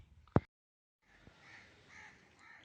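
Crows flying over a foggy winter landscape in mid-December give faint, distant caws after a sharp nearby click, with quiet outdoor ambience around them.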